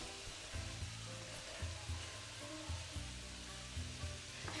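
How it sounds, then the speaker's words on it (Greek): Onion and garlic sautéing in a pan make a steady, close crackling sizzle, with low rhythmic thumps as the pan is stirred every second or so. "και αφήνω να μαραθεί το κρεμμύδι, λιγάκι να σοταριστεί"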